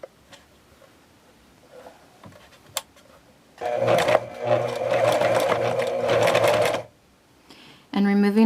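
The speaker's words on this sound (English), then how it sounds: "having the fabric right at the edge of our presser foot as we sew" A sewing machine stitches fabric with a steady, close mechanical whirr and rhythmic chatter lasting about three seconds, preceded by quiet handling clicks and followed by a brief restart.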